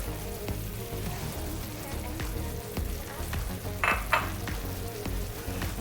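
A jaggery and coconut mixture bubbles in a pan while powdered poha is stirred in for laddu, producing a close, crackling sizzle with stirring scrapes and a couple of brief louder hissing bursts.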